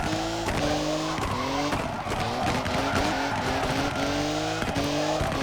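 Car from the OverDrift Festival drift video game driven hard, a loud, steady engine drone with repeated rising gear-shift whines and sustained tire squeal throughout.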